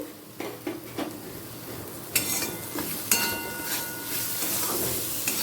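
Spiced masala and potatoes sautéing in a pan for a vegetarian papaya curry, with steady soft sizzle, scraping spoon strokes and a few sharper clinks against the pan.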